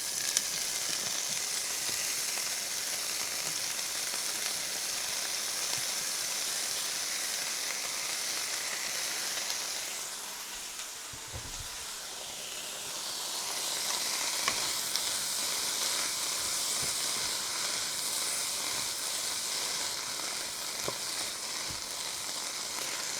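Leeks dropped into hot melted butter over high heat give a loud, steady sizzle that crackles on without pause, dipping briefly midway before rising again, with no voices.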